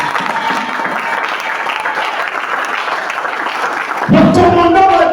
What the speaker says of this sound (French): Est-ce que quelqu'un peut acclamer pour Dieu?